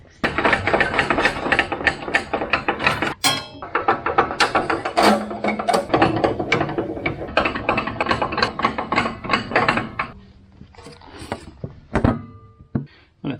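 A Ryobi power tool works in busy, uneven bursts of clattering, ratcheting and knocking mechanical noise, loud and near, with brief pauses between runs and a quieter tail at the end.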